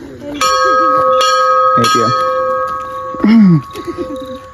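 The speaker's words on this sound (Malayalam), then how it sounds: "ഇതാണ് ഈ മണിയടി" Church bell at the Kurishumala pilgrimage hill: repeated loud metallic strikes with long ringing tones sustaining between them, close by, with people speaking briefly under the ringing.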